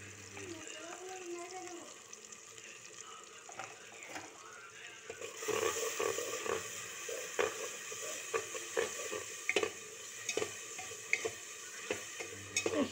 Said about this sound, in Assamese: এইখিনি এতিয়া ভালদৰে লৰাই দিম।